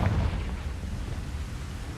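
A Confringo spell blast from Hogwarts Legacy: a deep booming explosion hits at once, then fades into a low rumbling tail, moderately loud and heard alone.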